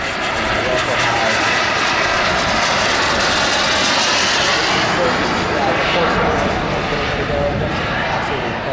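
A model F4 turbine jet roars continuously overhead, a loud whining jet sweep rising and falling as it flies past and comes in to land at an RC airshow, with someone talking over it.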